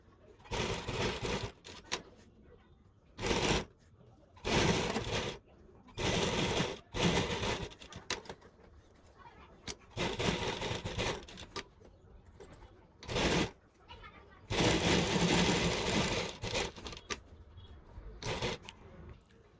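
A sewing machine stitches piping onto the neckline of a kurti in short repeated bursts, each run lasting a second or two with brief pauses between, close and fairly loud.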